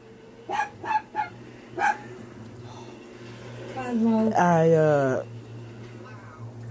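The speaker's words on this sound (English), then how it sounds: "He drives me crazy when he barks." A dog barks in a quick series of four sharp, close barks, followed by a longer whining howl, over a steady low hum.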